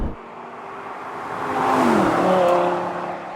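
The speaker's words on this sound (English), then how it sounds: "The throttle reacts instantly to your inputs because it is a naturally aspirated V10" A Lamborghini 550/2 Valentino Balboni's naturally aspirated V10 revs under throttle, the engine note swelling and rising in pitch over a couple of seconds before easing back, loud and close.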